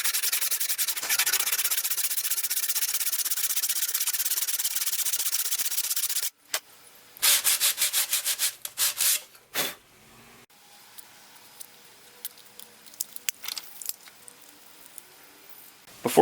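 A handsaw cuts a slot in wood, giving a steady, close rasping scrape for about six seconds, then a few short bursts of strokes and scattered light handling noises.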